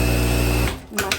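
A sewing machine stitches a seam on a long puff-sleeved dress with a loud, close mechanical hum that cuts off after about half a second, followed by a couple of brief clicks.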